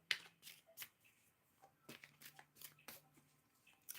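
Tarot cards being shuffled by hand at close range, a series of soft riffling bursts and light slaps with pauses in between, quiet and without speech.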